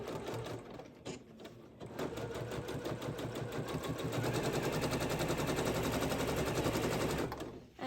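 A sewing machine stitches a large Ikea bag with a long stitch length, producing a steady, rapid mechanical rattle that runs faster and more evenly midway through, then stops abruptly at the end.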